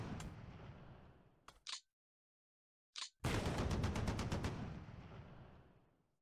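Gunfire and artillery in the wartime strategy game War in the West. Heavy blasts fade out, then two short isolated bursts follow a silent gap, and finally a loud rapid machine-gun volley decays away.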